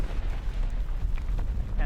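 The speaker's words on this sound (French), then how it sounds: "mais on entend très bien retomber les petits cailloux" Small volcanic stones patter back to the ground during an eruption on an Indonesian volcano, a dense crackling spatter over a deep rumble with scattered sharper impacts close by.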